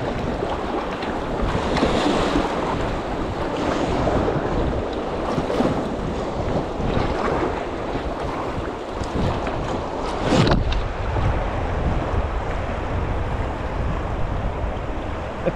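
River water rushes and splashes continuously around a raft on a whitewater run down the Tom river, loud and close with heavy wind buffeting the microphone and one sharper splash midway, no voices.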